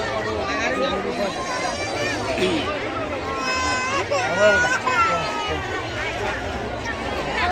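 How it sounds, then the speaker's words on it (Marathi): A small child cries amid a noisy crowd at a fair, the wailing rising and falling over steady chatter and nearby voices. "लहान लेकरू रडायला आले गर्दीमध्ये"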